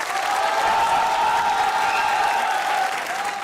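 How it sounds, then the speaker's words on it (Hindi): Studio audience applause for a comedy show swells into a thick, continuous roar for several seconds, with a faint sustained tone and some crowd noise blended in. "भाई जिसको लगता है इसने अच्छा किया वो तालियां बजाए"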